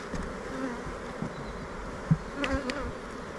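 Steady low insect buzzing from many honey bees at a hive, continuous and fairly quiet, with a few brief knocks and rustles near the end.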